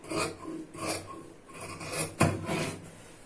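Scissors cutting blouse fabric in a tailoring setup, a series of close, rasping snips with one sharper crunch partway through, no talking.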